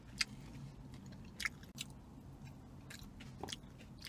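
Crisp bites and crunches of fresh celery alongside a toasted tomato and cheese sandwich, a few sharp crunches spaced through quiet chewing with no talking.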